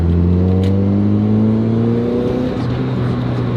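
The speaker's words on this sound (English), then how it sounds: "That's the exhaust." Mazda Miata with an aftermarket exhaust heard from inside while driving, a loud droning engine note climbing steadily in pitch under acceleration, then dipping briefly as the revs shift.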